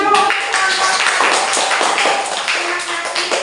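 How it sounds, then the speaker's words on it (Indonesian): A classroom group claps hands together in a short, dense burst of applause after a student presentation, with some faint voices mixed in. "kita kasih tepuk tangan dulu"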